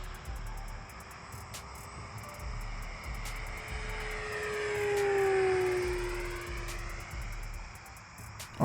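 Radio-controlled Mitsubishi A6M Zero, a 68-inch model with a 20cc gas engine, makes a full-throttle flyby. The steady propeller drone swells as it passes close, with a clear pitch drop, then fades as it moves away.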